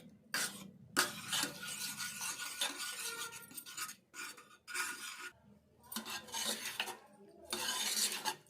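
A utensil scrapes and stirs soft cooked spinach dal in a metal pot, producing repeated close rasping strokes broken by short pauses, with no voices.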